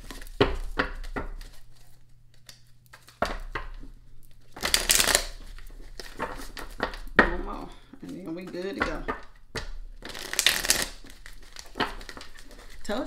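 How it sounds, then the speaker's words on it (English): A deck of cards is shuffled up thoroughly during a spiritual card reading, giving two crisp riffling bursts between quieter handling, shifting and tapping sounds, with no talking. "Shuffle them up real good."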